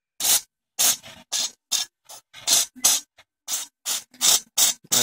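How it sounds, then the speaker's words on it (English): Repeated pumps of a spray bottle misting a leopard gecko enclosure: about a dozen short, sharp hissing bursts in an even rhythm, close and clear with silence between. "Just give this spray bottle a couple pumps."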